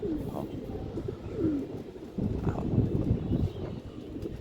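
Pigeons perched on a home balcony coo softly in low, repeated bursts, with fluttering and shuffling through the clip and a brief spoken word near the start.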